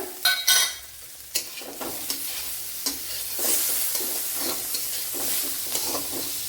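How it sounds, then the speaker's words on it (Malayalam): Tomatoes dropped onto salted frying onions for egg masala, with a sharp initial clatter then a steady sizzle while a spoon scrapes and stirs the pan, close and moderately loud. "ഇതിലേക്ക് തക്കാളിപ്പഴം ഇട്ട് കൊടുക്കുക."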